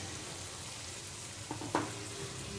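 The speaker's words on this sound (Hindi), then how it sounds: "मसाले के साथ में आलू को भी अच्छे से भून लेते हैं" Fried potatoes sizzle in masala in a pan, a low steady frying hiss with a couple of brief stirring clinks near the end, fairly faint.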